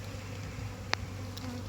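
Dark Caucasian honeybees hum steadily at an opened hive during inspection, a continuous low buzz broken by a single faint click.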